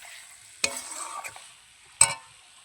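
Spice masala for a meat curry sautéing in a pan, two sharp close scrapes of a spatula with a brief crackling sizzle between them, then quiet, no talk.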